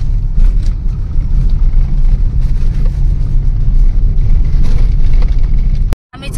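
A car drives along an MIDC road in heavy afternoon traffic, its loud, steady engine and road rumble continuing without pause until an abrupt cut just before the end.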